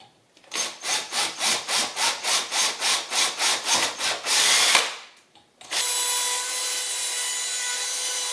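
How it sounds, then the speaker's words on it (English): Threads being reamed out of existing holes during an electronic instrument cluster conversion on a 1976 Mazda RX-5, about a dozen rhythmic scraping strokes close by, then a short pause and a steady, continuous grinding whir. "And now I will just ream the threads out of the existing holes."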